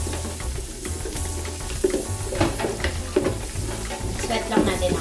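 Onion sautés on very low heat for a seafood boil, a close bubbling sizzle with light stirring scrapes and a few soft knocks against the pan, continuous and without speech.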